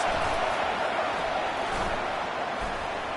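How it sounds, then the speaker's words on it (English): Crowd at a Kansas State football game roars to rally its defense, a dense, loud, unbroken wall of noise that fills the whole stretch, with a commentator's voice faint beneath it. "Listen to this crowd just shaking the girders of this place trying to help their defense."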